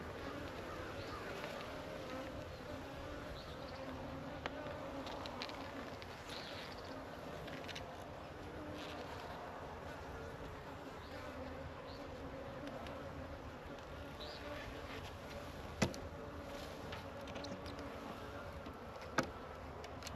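Honey bees swarming around a hive during a transfer, a steady dense buzz holding through the whole stretch at moderate level, with a couple of sharp clicks near the end.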